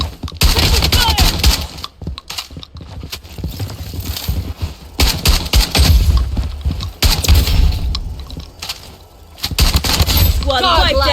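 Gunfire in the Call of Duty-style shooter Blood Strike on the Shutter Island map, with repeated loud bursts over dense game noise, mixed with game voice callouts throughout.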